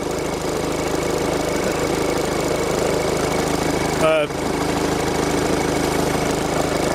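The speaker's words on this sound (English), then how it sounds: "with the battery booster pack on, it started up" A car engine idles steadily after a jump start from a battery booster pack, a low even rumble heard close by, with a brief clunk partway through.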